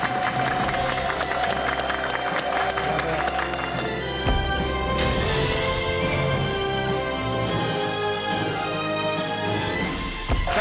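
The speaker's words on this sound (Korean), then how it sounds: "박수로 맞이해주십시오." A studio audience on a Korean health talk show claps and cheers to welcome a guest, a steady full wash of applause throughout, with music playing and crowd noise mixed in.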